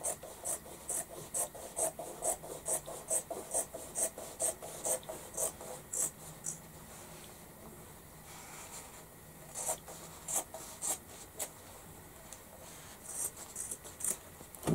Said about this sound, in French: pour ne pas perdre, on coupe vraiment à ras de la couture